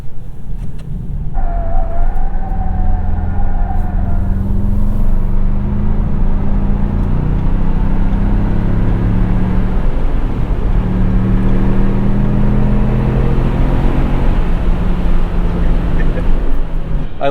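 A Ford truck engine at wide open throttle with all-terrain tires humming on the road, making a loud, steady low rumble that fills the whole stretch without easing.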